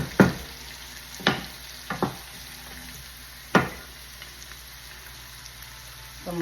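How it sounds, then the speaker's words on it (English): Chunky onions sizzle steadily in a hot pan for a red wine rib braise, a constant frying crackle broken by a few sharp clatters of stirring. "I'm gonna let them sizzle just a little bit, about 1 minute"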